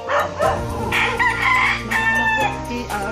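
A rooster crows loudly and close by on a farm in Zambales, its long harmonic call stretching across the clip, with a second crow overlapping and faint clucking behind.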